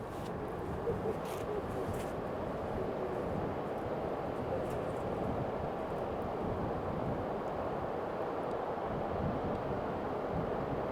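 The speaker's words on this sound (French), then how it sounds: "Le vent souffle fort" Steady, strong wind roaring and buffeting the microphone without a break, a dense rushing noise with no clear voices.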